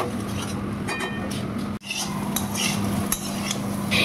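Vegetables coated in spices are stirred in a pan, with close clinks and scrapes of a utensil against metal and a faint sizzle underneath, briefly interrupted midway.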